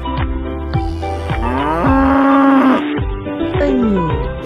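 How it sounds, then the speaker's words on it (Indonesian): Cattle lowing in long, drawn-out moos that swell and fall, loud and close, with several calls running together and no other sound over them. "Sapi."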